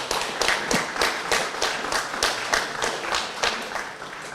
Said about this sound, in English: by the applause, I am treating this as an acceptance of the offer